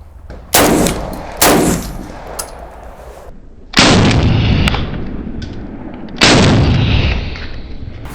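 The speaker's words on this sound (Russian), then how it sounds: "Стреляю также 30 на 50 метров. Черный большой кружочек. 2 раза подряд." A Saiga 12 semi-automatic shotgun with tactical tuning kit fired outdoors at a target 30 to 50 meters away, four loud close booming shots in two pairs, each followed by a long rolling echo.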